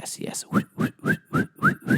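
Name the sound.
whistled sound effect imitating aggressive swiping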